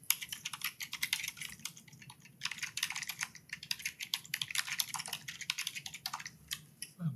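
Rapid typing on a computer keyboard during a Cleveland Heights charter review commission meeting: dense, close, irregular key clatter in quick bursts with brief pauses, and no talking over it.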